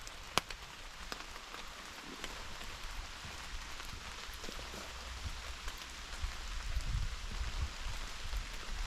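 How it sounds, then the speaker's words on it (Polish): Heavy rain falls steadily beside the Narew river during a fishing outing, a dense, continuous hiss of drops on surfaces with a few sharper taps, close and unbroken. "Opady dzisiaj mocne, z nastawieniem na bardzo mocne."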